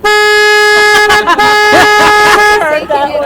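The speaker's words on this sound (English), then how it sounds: "can you at least hear the foghorn from the ship? You hear the foghorn?" The foghorn of a river tour boat on the San Antonio River Walk blares loud and sustained, close by, while a crowd's voices and chatter mix in underneath.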